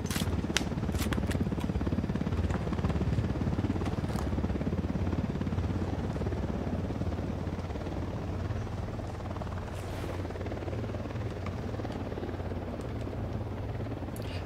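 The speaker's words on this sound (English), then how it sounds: "Chopper, hit the dirt." A helicopter in the video game Ghost Recon Wildlands flies overhead with a steady, throbbing rotor beat and engine drone that hold at moderate loudness for the whole stretch, faint scattered clatter over it.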